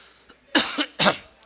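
A man coughs twice, sharp and close, during a Korean church worship service, with short silence around each cough.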